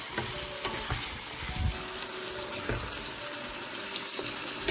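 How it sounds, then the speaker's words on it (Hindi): Chicken for a namkeen karahi fries over high heat with garlic and is stirred, giving a steady, loud sizzle with scraping stir sounds and occasional clinks throughout. "इसको तेज आंच पे मैं इस तरह भूनूंगी"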